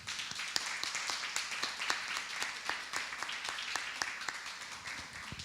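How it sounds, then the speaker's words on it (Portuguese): A church congregation applauds its pastors during a worship service, a steady patter of many hands clapping with sharper individual claps standing out, moderately loud and continuous throughout. "Vamos aplaudir esses pastores, irmãos."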